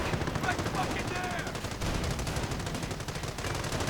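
Sniper rifle shots ring out in a World War II real-time strategy battle, mixed into dense, continuous gunfire and machine-gun bursts that fill the whole stretch at steady loudness.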